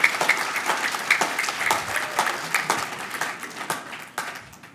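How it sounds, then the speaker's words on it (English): An audience at a youth council candidate forum for Meridian City Council applauds the candidates, a steady, dense round of many hands clapping that fades at the end. "Nice round of applause for our candidates for Meridian City Council Seat 5"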